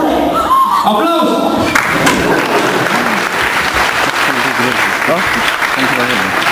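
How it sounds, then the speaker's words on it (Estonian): An audience claps at a school Christmas party at Põlva, broad applause rising in the hall while voices and a few thumps mix in near the start, then settling into a steady, crowded patter. "aplaus!"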